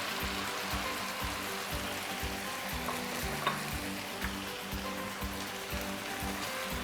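Chicken karahi sizzles and fries in a pan while tomatoes go in, a steady crackling hiss with rhythmic stirring scrapes repeating about every half second, close and moderately loud.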